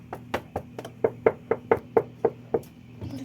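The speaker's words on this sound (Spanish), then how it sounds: "están tocando la puerta" Knocking on a door while camping: about a dozen sharp, evenly spaced raps in a steady run, close and distinct, with a faint low hum underneath and no talking.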